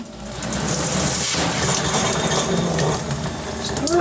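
Water gushing steadily from an RV faucet line during winterizing, a loud continuous hiss and splash that holds for several seconds with no voices.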